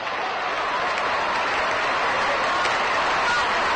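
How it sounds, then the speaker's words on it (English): Dodger fans in the 1957 Cardinals–Brooklyn Dodgers baseball game clapping, an even, steady wash of crowd applause heard through a narrow-band vintage radio broadcast, carrying on without a break. "Dodger fans begin a little hand clapping now in the background."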